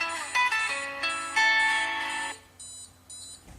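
A phone rings with an incoming call placed by an Arduino alarm system with a SIM800L GSM module, a bright melodic ringtone of rapid tonal notes that fades after two seconds into softer, intermittent tones.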